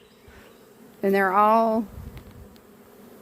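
A swarm of honeybees buzzes around a hive box during relocation to a permanent hive, a low steady hum under a short burst of nearby talking.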